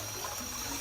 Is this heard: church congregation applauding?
no